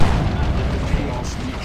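A unit blows up mid-battle in a real-time strategy game: a heavy boom at the start trails into dense rumbling battle noise, with a voice running underneath.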